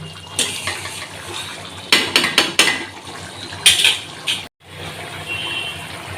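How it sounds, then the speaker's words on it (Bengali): Raw mustard oil poured into a pan of cooked prawns, heard as a close liquid splash and sizzle with bursts of metal pan and utensil clatter, then a brief cut and a quieter hiss, with no talking. "দিয়ে দিলাম কাঁচা সর্ষের তেল"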